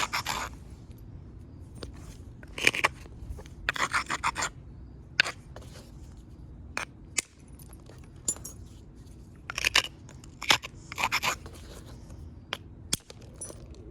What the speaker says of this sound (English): Then we get out a different hammerstone, and you can do some pretty subtle work, though.